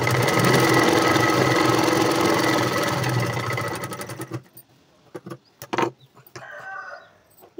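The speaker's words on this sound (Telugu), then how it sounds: "ఇప్పుడు షేప్ బెల్ట్ పైన ఒక కుట్టు వేసుకోవాలి." A sewing machine stitches along the shaped belt of a boat neck blouse, running in a fast, steady whir for about four seconds before stopping, followed by scattered faint background sounds that may include clucking fowl.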